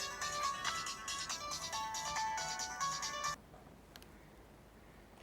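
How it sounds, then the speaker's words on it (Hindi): A telephone ringtone plays loudly in a repeating electronic melody, then cuts off abruptly, leaving a quiet room with a faint click. "इमरान की अम्मी का फोन है।"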